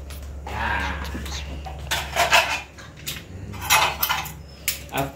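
Dishes, plates and forks clatter during washing at a home kitchen sink, with bursts of clinking and splashing over a steady low hum.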